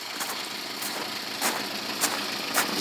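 A Shaitan-arba all-terrain vehicle drives through the taiga, its engine droning steadily up close, with a few louder knocking bursts recurring at irregular intervals.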